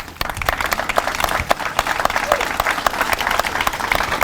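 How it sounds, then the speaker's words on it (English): An audience at a WWII veterans event breaks into a round of applause, dense crowd clapping with distinct sharp individual claps standing out, loud and steady throughout. "if you could just wave your hand or stand up so we can give you a round of applause"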